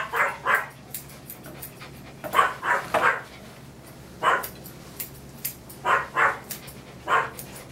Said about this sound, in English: So I noticed that she's barking the whole time